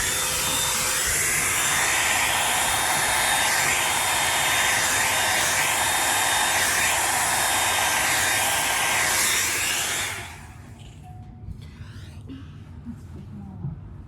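A hair dryer blows across wet paint to spread cells in an acrylic bloom-technique pour. It makes a loud, steady, close roar for about ten seconds, then cuts off, leaving faint room sounds.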